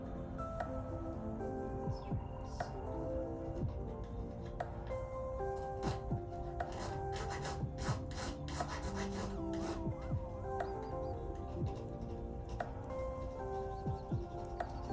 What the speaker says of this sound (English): My files are doing exactly what I want them to do,